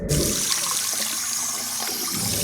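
High-pressure tap water gushes continuously over a wristwatch, a loud, close, hissing stream that splashes steadily for a couple of seconds with no talk.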